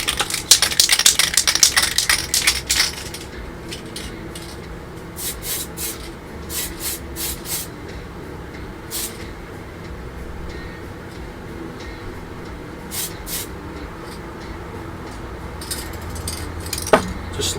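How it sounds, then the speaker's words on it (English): A spray can hisses in a dense burst over a part from a 1/48 scale Meng F/A-18E Super Hornet model kit, fairly close and loud for about three seconds. Faint scattered clicks and small handling noises follow in a quiet room. "so I want to do another spray on this."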